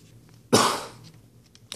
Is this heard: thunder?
no